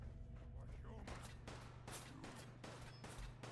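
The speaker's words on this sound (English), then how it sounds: "Where am I getting shot at from?" Video game gunfire in Fallout 4, several quick bursts of shots fired at the player, coming in rapid irregular volleys over a steady low hum, fairly quiet overall.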